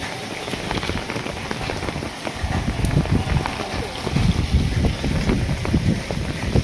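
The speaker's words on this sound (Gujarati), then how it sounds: "આજે રાતનો વરસાદ બહુ જોરદાર વરસાદ છે" Heavy rain falling at night, pattering hard and steadily on surfaces nearby, with gusts of wind buffeting the microphone and swelling the roar toward the end.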